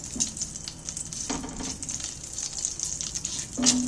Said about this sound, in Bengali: এরকম পটলের তেলটার মধ্যে একটা তেজপাতা দু টুকরো করে দিয়ে দিচ্ছি